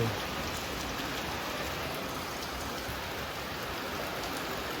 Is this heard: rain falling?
yes